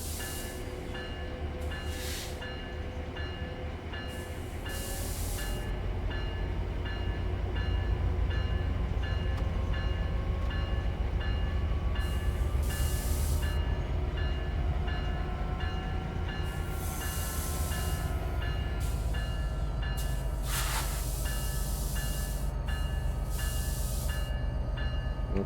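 A commuter train on the San Bernardino Line in Train Sim World 5 rumbles steadily along the track with a continuous low roar, rising motor whine and occasional hissing bursts, with no voices.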